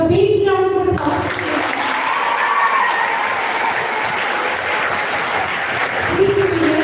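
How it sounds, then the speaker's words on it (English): An audience at a nursing student awards ceremony breaks into loud, sustained applause lasting several seconds, with a voice briefly heard before and after. "Give a big round of applause."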